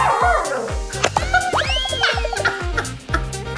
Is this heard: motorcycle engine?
no